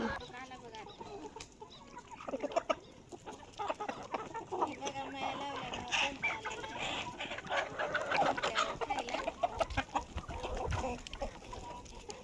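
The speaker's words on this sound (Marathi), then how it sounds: "बघू शकता कसा खायलाय कोंबडा" Rooster clucking on a farm while it eats, soft repeated clucks and pecking at close range, with low voices and faint farmyard background throughout.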